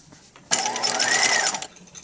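A sewing machine stitches a sleeve into a tailored coat in one steady close run of about a second, whirring evenly before stopping.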